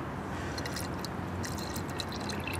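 Poland Spring water trickles into a car battery cell as a soft, continuous pour with faint splashes and drips, quiet and unaccompanied by talk.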